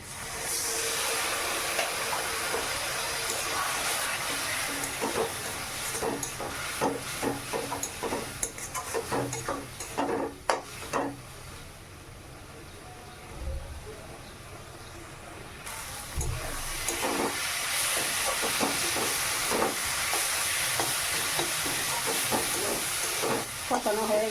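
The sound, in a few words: spice paste sautéed with a little water in a pan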